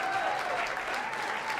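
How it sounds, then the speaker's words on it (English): Audience applause at a jazz concert, a steady wash of clapping from a crowd that holds evenly throughout, with no gaps or voices rising above it. "Clapping."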